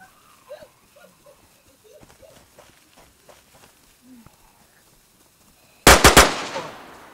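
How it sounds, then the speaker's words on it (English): An enemy player in DayZ fires a close, loud burst of three or four rapid gunshots with a trailing echo, after a stretch of quiet footsteps and faint movement. "He's shooting at me."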